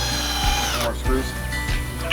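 A power drill drives screws into wood while building a shed-to-tiny-house conversion: loud, close, continuous motor whine with pitch shifts as each screw bites and seats, with a voice heard under it.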